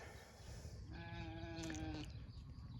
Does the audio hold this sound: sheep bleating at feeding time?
yes